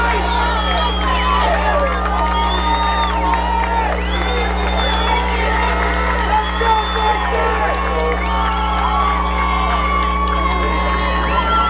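A crowd at a high school football game between Conneaut and Beachwood cheers steadily, with whoops and shouting voices in a dense, continuous roar over the whole stretch.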